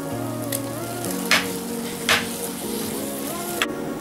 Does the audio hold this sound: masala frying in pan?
yes